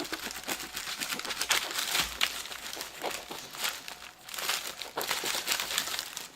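A knife saws through a loaf of French bread, producing crisp, crackly crunching of the crust in uneven bursts, close up, with brief pauses between strokes.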